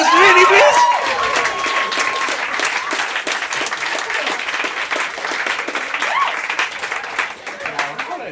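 An audience claps in a steady round of applause at a live bird-noise imitation competition; dense clapping fills the clip, with voices and a brief whistled bird-like sound near the start.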